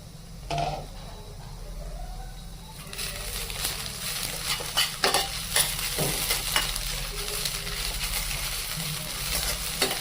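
Grated bottle gourd frying in a pan for halwa, with a soft steady sizzle under frequent scraping strokes of a spoon stirring, close and irregular, with no one talking.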